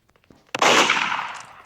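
A single sharp gunshot in the Roblox game Murderers vs Sheriffs 2, a sudden burst after faint clicks that decays over about a second.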